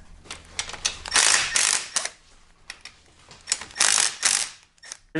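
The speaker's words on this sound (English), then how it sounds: "Okay, now the cylinder head bolts. Again, I'm using the impact to remove, not to install." An impact wrench loosens the cylinder head bolts on a GY6 scooter engine, fitted with a 171cc big bore kit, in a workshop. Several loud, rattling hammering bursts of a second or less are separated by short pauses.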